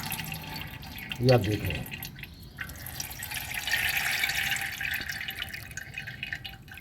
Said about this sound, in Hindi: इस शंखा होली वाले पानी को मैं रुई के साथ फ़िल्टर करने जा रहा हूँ।